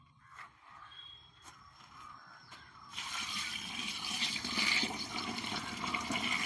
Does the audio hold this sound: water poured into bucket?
yes